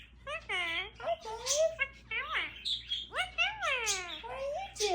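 Indian Ringneck parrot chirping and whistling at close range, a run of sweeping, rising and falling calls over a few seconds, alongside a person talking to it.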